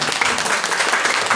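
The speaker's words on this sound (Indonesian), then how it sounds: "Tepuk tangan bagi dia." Applause from a church congregation during a Sunday worship service, a dense continuous wash of clapping lasting only a moment, close and fairly loud.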